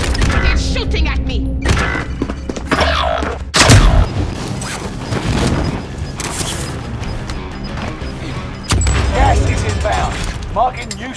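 Bursts of gunfire and heavy crashing impacts in Warzone Pacific on Rebirth Island, loud and dense, mixed with mechanical clatter and game voice lines throughout.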